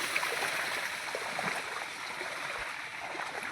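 Water gushing up out of the ground after heavy rain in a village, a steady broadband rush and gurgle like a flowing stream, continuous and fairly close throughout with no talk.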